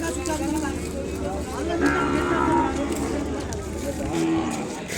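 Cattle lowing at the Kodad cattle market, with a calf nearby, steady moos rising over a busy crowd murmur while people talk throughout.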